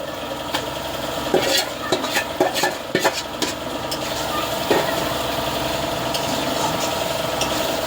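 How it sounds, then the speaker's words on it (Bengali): Marinated chicken going into a hot pan for a Bengali chicken curry, with clattering spoon strikes and scraping as it is stirred, then a steady sizzle in the second half. "এবার এর মধ্যে দেখো মাংস ম্যারিনেট করে রাখা আছে, এটা আমি এর মধ্যে দিয়ে দেবো।"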